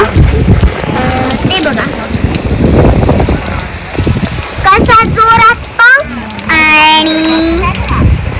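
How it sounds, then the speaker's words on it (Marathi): Steady rain patters on a surface throughout, with cattle lowing and a voice speaking intermittently over it. "तुम्ही बघू शकता सगळं नीट पाऊस आलाय"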